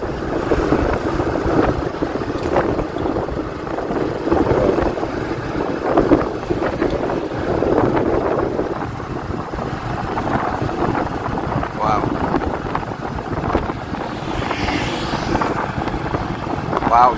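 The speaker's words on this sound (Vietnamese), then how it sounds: "Gió ra cây cầu Cổ Chiên này phải nói gió ghê luôn á" Strong wind roaring into the microphone while riding a motorbike across the Co Chien bridge in Vietnam on a rainy, windy day, a continuous loud buffeting rush with traffic noise mixed in and no clear speech.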